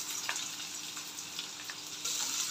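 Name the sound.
onion sautéing with garlic and curry leaves in pan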